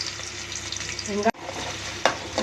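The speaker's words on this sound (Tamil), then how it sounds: "கொஞ்சம் கடுகு போட்டுக்கலாம். கொஞ்சமாக வெங்காயம், ஒரு பச்சை மிளகாய்." Mustard seeds, onion and green chili frying in hot oil make a continuous crackling sizzle. It drops out abruptly midway, then returns with a sharp clatter near the end.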